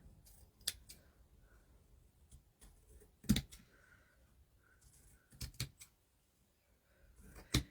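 Scissors trimming paper for a Fourth of July journal: sparse, crisp snips close by, single cuts and a quick pair, separated by quiet pauses.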